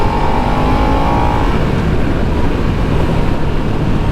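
A Kawasaki Z900RS or Harley-Davidson Nightster 975 motorcycle engine roars loudly and steadily at high revs, a sustained close-up drone with wind rushing across the microphone.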